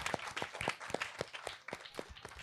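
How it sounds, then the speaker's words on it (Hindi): Scattered hand clapping from a small audience at a talk session, a few sharp, uneven claps spaced through the moment, fairly quiet and not building into full applause. "उनके लिए भी जोरदार ताली"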